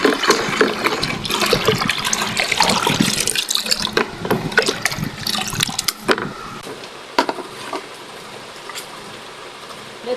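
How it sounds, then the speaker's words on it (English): Homemade milkshake juice, made in an African village, is sieved and poured into bottles: a sustained splashing, gurgling stream of liquid that is loud early on and thins out toward the end. "Let me now sieve it and pour it in bottles"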